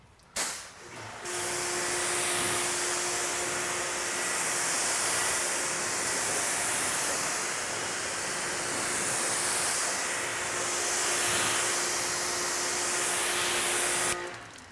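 Steady, close hiss of a water spray rinsing off a car that has a graphene spray wax coating, holding on for about thirteen seconds with a faint whine underneath and no talking.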